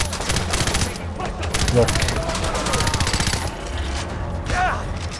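Automatic gunfire bursts in the video game Far Cry 4, rapid loud rattling volleys that run nearly nonstop, with a player's voice speaking over them.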